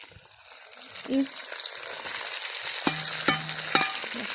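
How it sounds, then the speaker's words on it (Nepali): Onion drops into potatoes already frying in a pan, and the oil keeps up a steady close sizzle. A few stirring scrapes and faint tonal sounds run in the background. "यहाँ चाहिँ मैले आलु हालिसक्यो है अब मैले प्याज हाल्दैछु"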